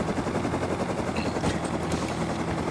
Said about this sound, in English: I'm gonna crush you in my helicopter